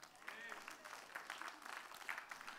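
A church congregation gives a short burst of clapping, faint and scattered hand claps mixed with murmuring voices for a couple of seconds.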